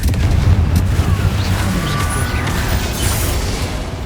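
Hogwarts Legacy on PS5, the Confringo explosive spell going off in battle, a loud continuous booming rumble with blast-like bursts and crackling throughout.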